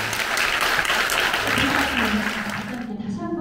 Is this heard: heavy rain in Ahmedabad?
no